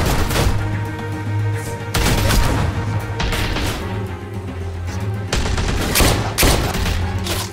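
Blind-fired gunshots in The Walking Dead video game, coming as several loud, close bursts of rapid gunfire separated by brief lulls over a constant background drone.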